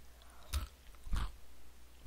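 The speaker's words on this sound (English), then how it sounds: "If you hear like crunches, then that means I'm eating fishies" Fish-shaped snacks crunched close up, two distinct quiet bites about half a second apart, each a short crisp burst.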